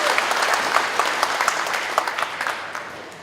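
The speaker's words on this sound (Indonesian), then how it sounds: "tepuk tangan untuk para camat yang hadir di sini" An audience at a regional community gathering applauds the district heads present, a thick wash of many hands clapping at once, loud and steady and then easing off near the end.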